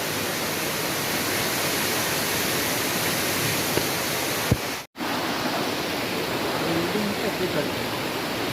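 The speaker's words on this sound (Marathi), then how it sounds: "आता पाऊस पण आला खूप" Heavy rain pours steadily outdoors during a crab-fishing trip, a dense, loud, unbroken wash of noise with one brief dropout partway through.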